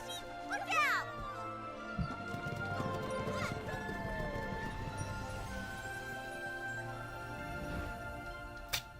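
Horse-drawn carriage in a video game, steady clip-clop of hooves with a whinny, wheels and game effects, under voices talking.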